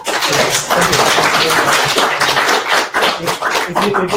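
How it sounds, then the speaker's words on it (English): An audience at a talk gives a round of applause, a loud, dense wash of many hands clapping continuously with a few voices mixed in. "Get a round of applause for Juan."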